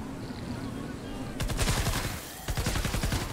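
Bursts of rapid gunfire from a crafted gun in Fortnite: Save the World on PC, two clustered volleys of sharp repeated shots after a quiet, buzzy stretch, fairly close and loud.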